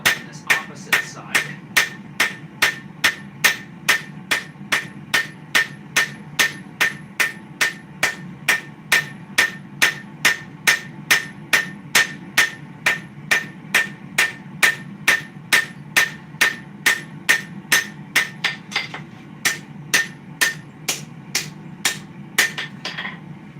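Steady hammer blows ring out on a sword blade being bevel-forged, dozens of evenly spaced, bright metallic strikes in a fast regular rhythm, close and sustained, with a low roar of the forge underneath.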